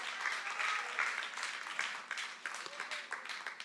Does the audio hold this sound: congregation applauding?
yes